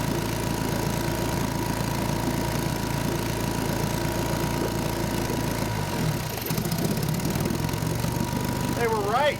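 A 1952 Johnson outboard engine runs unevenly on one cylinder, giving a continuous loud, rough, knocking drone, with a voice speaking over it.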